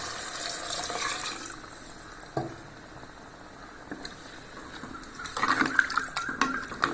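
Rice-washing water poured into a simmering tamarind gravy, a steady watery stream running throughout, growing louder with splashing toward the end; no talking.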